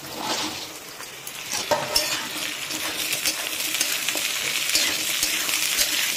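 Onion stalks go into a pan of half-fried onions and fry on high flame with prawns, making a loud continuous sizzle broken by scraping clatters of a spatula stirring, with no talking.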